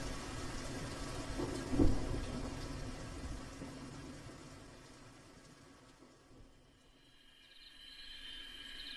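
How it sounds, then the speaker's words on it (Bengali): Steady rain falls outdoors at night as a soft, even hiss, quiet throughout, with a brief louder swell early on and fading slightly toward the end. "বাইরে তখনও বৃষ্টি পড়েই চলেছে"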